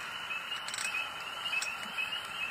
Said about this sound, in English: A lot of frogs and chirpers right now.